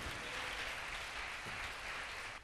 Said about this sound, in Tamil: பலத்த கைத்தட்டி சொல்ல வேண்டும்.